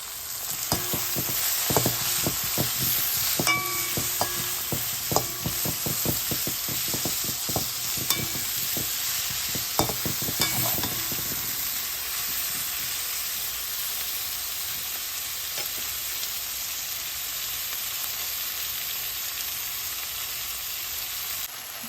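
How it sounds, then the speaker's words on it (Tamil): Onions and fenugreek seeds sauté in a pan for a tomato and brinjal curry, a steady sizzle carrying throughout while a spatula scrapes and clicks in a busy stretch early on, then the frying hiss continues more evenly alone. "இப்போ வதங்கட்டும் இப்போ வெங்காயம் வெந்தயம் எல்லாம் வதங்கிட்டுது"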